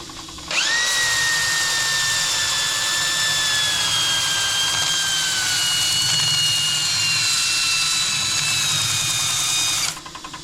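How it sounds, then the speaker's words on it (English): A power sander works wood with 120 grit sandpaper, starting suddenly and running as a loud, steady high whine with a faint rising pitch, then cutting off near the end. "Oh, I'm just going to sand this up, probably just start at 120."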